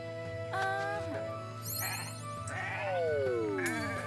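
A sheep in the video game Renowned Explorers: International Society bleats several times in short cartoonish calls over steady game music and quick chiming effects, fairly quiet.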